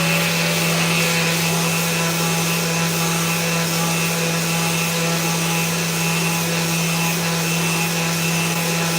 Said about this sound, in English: So let's just sand these up quick now.